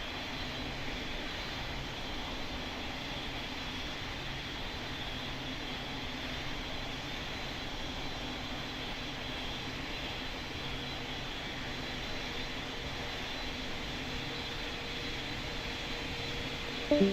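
Airliner engines droning steadily in a Pilot Training Flight Simulator game, a constant broad roar without change for the whole stretch, with no speech.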